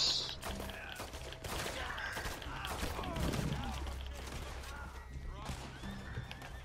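A horse in Red Dead Redemption 2, shot with incendiary rounds, whinnies shrilly amid a fusillade of gunfire and hoof clatter, while players talk over the game sounds.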